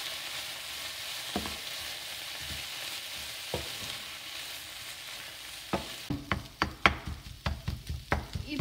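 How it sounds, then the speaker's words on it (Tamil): Egg kothu chapati with kurma fries in a pan while being stirred, a continuous sizzle punctuated by sharp scraping and clanking strokes that grow quicker and louder toward the end. "முட்டை வெந்ததும் அதில் குருமா ஊற்றிடலாம். நல்லா கிளறி விட்டுடலாம்."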